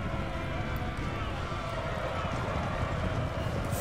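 Cavalry horses galloping in a city battle in Napoleon Total War, a dense rumble of many hooves mixed with battle noise, continuous and loud.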